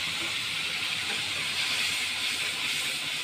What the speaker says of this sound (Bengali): এই গরম তেলের মধ্যে এই যে রসুন, পেঁয়াজ, লঙ্কা সব এই পেস্ট করা এটাকে এইভাবে ঢেলে দেব।